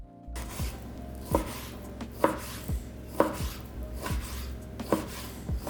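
A knife chops through stacked bacon slices on a board in quiet, steady strokes, each landing with a soft thud about once a second, close and alone with no talking.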